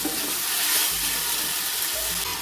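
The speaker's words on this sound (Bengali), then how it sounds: "ভালো করে কষিয়ে নেব আদা জিরের কাঁচা গন্ধটা চলে যাওয়া পর্যন্ত" Ginger, cumin and peas sauté in a hot pan, giving a steady close sizzle and frying hiss with faint stirring scrapes throughout, no voices.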